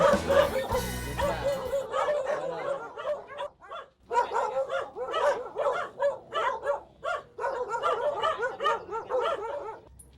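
A puppy yips, barks and whimpers close by in a quick string of short, high-pitched bursts with brief pauses between them, and a voice is heard briefly at the start.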